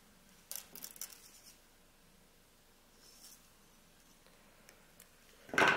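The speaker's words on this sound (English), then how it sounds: "take your meter of wire, and you're going to cut it" Wire snipped with cheap jewellery cutters while making a crystal suncatcher: a few faint clicks and rustles of handling, then one sharp, loud snip of the cut at the end, close by, with no talk.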